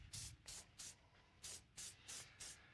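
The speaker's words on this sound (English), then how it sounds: "now I'm using our Sebastian Zero Gravity Spray" Sebastian Zero Gravity hairspray sprayed in repeated short hissing bursts, three then four quick puffs with brief gaps, fairly close and moderately loud, no talk.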